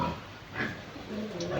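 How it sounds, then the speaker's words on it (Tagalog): Pigs in a pen at a rural provincial piggery give a few short, close grunting oinks, with a voice speaking faintly beneath them. "Mga pigs na guys."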